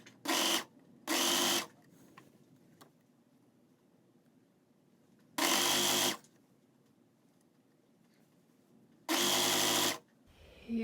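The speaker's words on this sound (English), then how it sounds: "I think I'm going to immediately sew it and then press it after." Sewing machine stitching a tank top in short, loud bursts: two quick runs, then two longer runs separated by quiet pauses with faint handling sounds.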